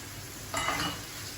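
Gözleme pastries frying in a pan give a steady hiss that rises into a louder burst of sizzling midway, then settles back to a lower crackle.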